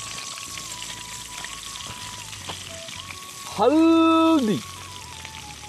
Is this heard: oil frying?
yes